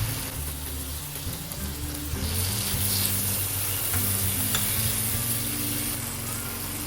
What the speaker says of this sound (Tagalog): Maganda talagang dinigisa ang tomato paste para mas lumalabas yung natural sweetness